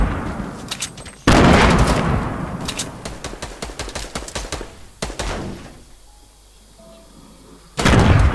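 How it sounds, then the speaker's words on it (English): A grenade explosion and gunfire in a shooter video game, with sharp, loud booming blasts and rapid shots in clusters, heavy reverberant impacts near the start and end, close. "Grenade coming."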